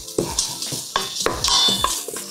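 Onion and garlic sizzle in olive oil in a pot for a risotto, a steady frying hiss with sharp clinks and scrapes of a utensil stirring against the pot, close and fairly loud, with no talking.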